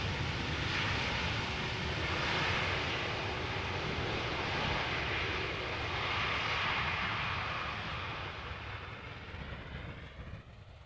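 An Airbus A330, nine years old, arriving at Amsterdam Schiphol, makes a steady broadband engine roar that stays loud throughout and eases slightly toward the end, with no voices over it.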